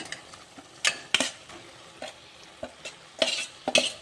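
Cooked rice being stirred into a mustard-seed and coconut seasoning in a pan, with scraping spoon strokes at an uneven rhythm over a faint sizzle, close and fairly loud.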